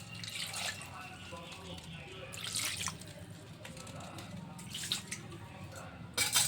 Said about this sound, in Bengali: একটু জল দিয়ে দেবো অল্প করে।